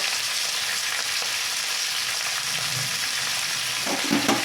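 Okra seasoned with salt and turmeric fries in a pan for sambar, a steady close sizzle with a few stirring scrapes near the end.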